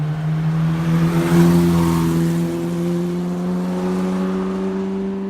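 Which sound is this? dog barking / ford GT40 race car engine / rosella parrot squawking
ford GT40 race car engine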